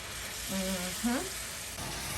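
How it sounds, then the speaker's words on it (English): Steady, hissing sizzle of creamy garlic mushroom gravy frying in a hot pan, with a brief voice and a stirring scrape over it. "You hear that sizzle?"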